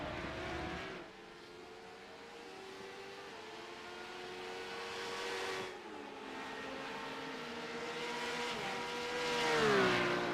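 Race cars in the iRacing simulator lap a Le Mans circuit, their engines whining in a steady, sustained drone that shifts pitch through gear changes and climbs in a rising rev near the end, with no voices over it.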